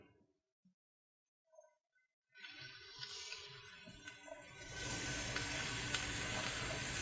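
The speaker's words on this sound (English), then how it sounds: "I'm going to add a little bit more olive oil in there, just so we can saute the onions too" Onions and green onion sauté in olive oil inside a Ninja Foodi, starting after a few faint bumps with a steady sizzle that swells louder and denser partway through, close and continuous with no talking.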